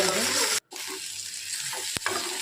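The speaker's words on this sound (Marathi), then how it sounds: "आता थोडं तेल टाकून त्याला फ्राय करायचं। छान लालसर रंग येईपर्यंत फ्राय करूया।" Sliced ivy gourd (tondli) fries in oil with a loud, close sizzle that cuts out briefly, then returns more quietly with a sharp clink and soft stirring.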